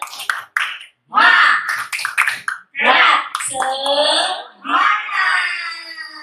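A group at a school workshop does rhythmic 'tepuk semangat' clapping: short sharp claps break in between loud chanted voices, close and lively.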